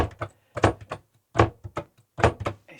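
A caravan door swings shut several times while its latch is being checked for catching, making a run of close, sharp thuds and clicks with short pauses in between.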